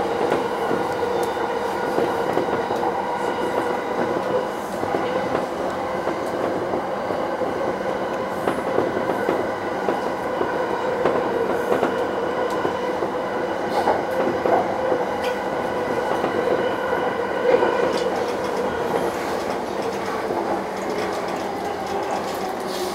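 A JR Yamanote Line train runs between Tabata and Komagome with a steady rolling rumble and a faint, rhythmic clatter of wheels over the rails. It is heard from the front of the train for over twenty seconds, with no voices.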